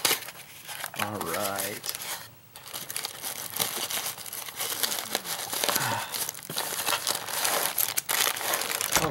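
Cardboard package being cut open and unpacked by hand, with crinkling, tearing and rustling of box and packing material close by, running under intermittent talk.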